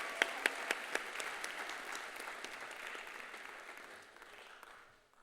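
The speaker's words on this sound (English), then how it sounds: "Let's give another round of applause to Jinal." An audience applauds after a Bharatanatyam arangetram dance performance. A few sharp individual claps stand out at first, then the applause settles into a steady, moderately distant patter that thins and fades toward the end.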